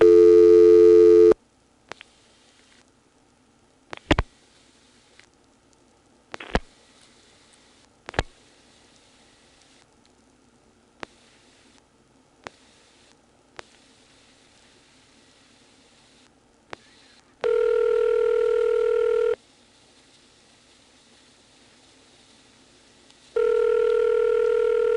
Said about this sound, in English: I'm going to try to dial a vacant code.